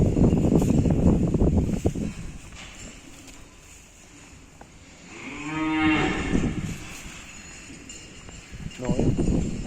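Cattle on a farm in southern Estonia moo in one long, drawn-out call in the middle, with rough wind-like noise and outdoor rumble before and after.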